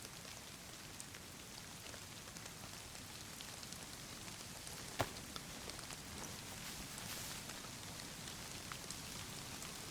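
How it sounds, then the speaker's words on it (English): Rain falls in the DayZ video game as a faint, steady hiss of dense drops pattering on surfaces, with one brief louder tick in the middle. "It's starting to rain."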